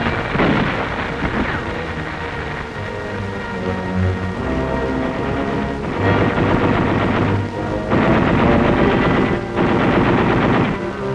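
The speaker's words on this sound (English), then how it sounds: "Artillery delivers heavy fire on the central strong point of the enemy's defense line, the garrison village of Shuri" Heavy artillery and machine-gun fire at the Battle of Okinawa near Shuri, loud and continuous, with rolling booms and rapid bursts layered densely throughout.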